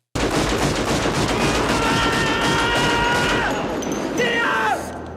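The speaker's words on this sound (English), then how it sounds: "proceeds to unload 12 rounds from his Beretta in the air, straight up in the air, in a civilian area" A Beretta pistol is fired rapidly into the air in a civilian area in a film scene, loud close shots running together in a continuous burst that stops abruptly, with a brief shout near the end.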